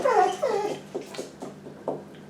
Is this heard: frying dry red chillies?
no